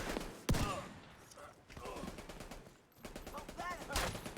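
Rapid automatic gunfire from a weapon in The Division 2 shooter game, bursts of quick sharp shots with brief gaps, someone talking over the shooting.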